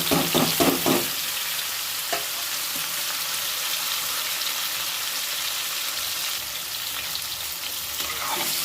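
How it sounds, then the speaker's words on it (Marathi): Tomatoes and stuffed brinjals sizzle steadily in hot oil, with a burst of crackling at the start as they go into the pan, then a continuous fry with occasional stirring clatter, with no talking. "जिरे भाजत आले की लगेच तेलामध्ये टोमॅटो टाकायचे आणि लगेच आपण भरलेली वांगी जी आहे ती करून घ्यायची."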